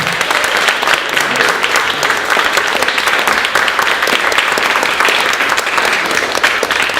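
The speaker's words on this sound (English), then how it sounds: "How about a big round of applause for that?" Sustained, loud applause from an audience at the close of a meeting program, dense and even clapping for about seven seconds with no break.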